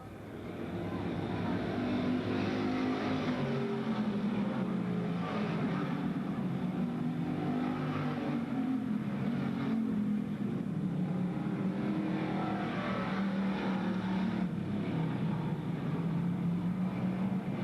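Race cars roar around Bedford Speedway, a steady continuous engine drone with rising and falling pitch as cars pass, loud and unbroken throughout with no voices.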